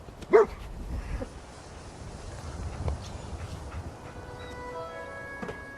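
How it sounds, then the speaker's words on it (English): A dog in the video game Fallout 4 gives one short, loud bark near the start, then a few fainter yips and whimpers over a low ambient rumble with occasional thin tonal sounds. "Commonwealth mutt like him can track a man's scent for miles."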